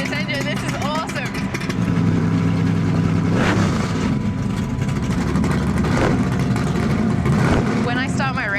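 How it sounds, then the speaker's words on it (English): A Chevelle's engine idling with a deep, rumbling growl, steady and close throughout, while someone talks over it. "When I started this Chevelle, I don't think growl even begins to describe it"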